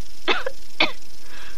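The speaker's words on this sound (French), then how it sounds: "Toussez." A French cartoon character gives two short, forceful coughs about half a second apart, close and loud with no other sound around them.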